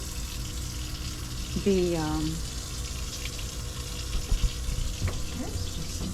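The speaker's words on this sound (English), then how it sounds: "I'm emptying out the water tank. Just running faucet." Faucet aboard a boat left running to empty the onboard water tank, giving a steady broadband hiss of flowing water throughout, with brief tonal squeaks and clatters in the background.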